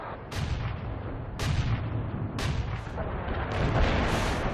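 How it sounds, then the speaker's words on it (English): Heavy artillery barrage in the video game World in Conflict: three loud booming impacts about a second apart over a continuous low rumble, then a fourth, softer blast near the end, with no talk. "Deploy and lay down the heavy barrage."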